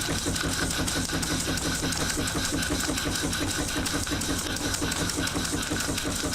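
A small model steam engine with a gas burner runs at about 25 psi, giving a steady, dense mechanical chuffing and rattling close by. It continues without a break and without talk.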